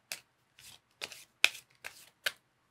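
Oracle cards are shuffled and drawn for a tarot reading, six short papery riffles and flicks in an uneven rhythm, close and fairly quiet, with no speech over them.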